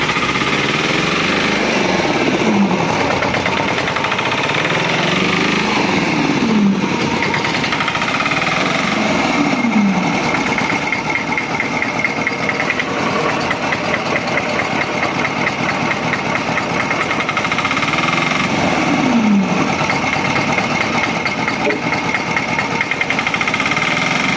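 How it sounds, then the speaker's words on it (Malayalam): Engine-powered firewood splitting machine running loud and close, a steady continuous motor drone with a knocking, hammering texture and a few recurring swells of strain spaced several seconds apart, with no voices. "ഇപ്പം മെഷീനായിട്ടുണ്ട് കേട്ടോ അപ്പോൾ അത് എങ്ങനെയാണ് പൊളിക്കുന്നത് എങ്ങനെയാണ് വിറക് കൊത്തുന്നത് നമുക്ക് നോക്കാം"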